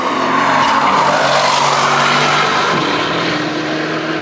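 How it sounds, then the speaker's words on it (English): An Aston Martin prototype sports car drives past loud and close, with a strong engine roar and a tone that shifts partway through as it goes by, and no talk over it. "Ah, Aston Martin"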